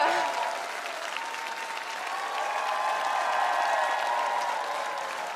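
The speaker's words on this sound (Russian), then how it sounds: "Эти аплодисменты вам" Sustained audience applause for quiz participants at a premiere event, a steady wash of many hands clapping at moderate distance, holding evenly for several seconds.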